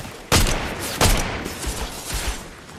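Two sharp gunshot bursts ring out close together in Fortnite, followed by fainter scattered shots against a steady background hiss.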